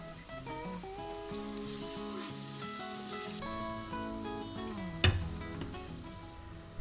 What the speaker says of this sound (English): in goes the ginger, garlic, and green chilies. Cook for 30 seconds